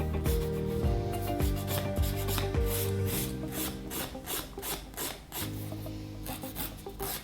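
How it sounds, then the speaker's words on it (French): A nail file rasps back and forth over gel nail polish, steady rhythmic scraping strokes at close range, fairly quiet, with no one talking. "Je repasse un petit coup de lime."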